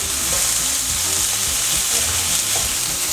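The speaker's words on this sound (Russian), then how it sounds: "обжариваем мясо до золотистой корочки" Beef chunks frying in plenty of oil in a pan for goulash make a loud, dense, steady sizzle close up, with no speech over it.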